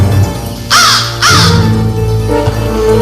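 A crow gives two loud, harsh caws in quick succession, close by over a low background hum.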